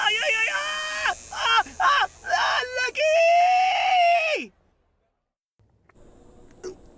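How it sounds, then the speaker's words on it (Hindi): A man screams in pain while getting a tattoo, several loud broken cries and wails in quick succession ending in a long falling howl, then silence and faint sounds. "चिल्ला क्यों रहा है?"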